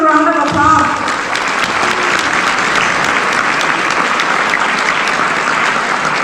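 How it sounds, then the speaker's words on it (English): A school district general assembly audience claps in a broad, sustained round of applause that starts just after a brief voice and continues evenly to the end. "So let's give ourselves a round of applause."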